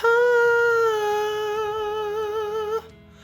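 One long held high note sung in falsetto, lightly and steadily with gentle wavering, then cut off abruptly, leaving quiet room tone.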